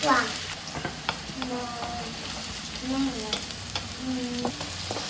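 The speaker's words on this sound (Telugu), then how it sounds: "ఆనియన్ ఫ్రై అయిపోయినాయి, చికెన్ యాడ్ చేసుకొని" Onions frying in a pan for chicken fry, with a steady close sizzle broken by stirring and the scrape of a spatula, no voices.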